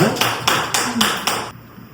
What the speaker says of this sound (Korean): 우리 격려의 박수를 한 번 더 보내드리겠습니다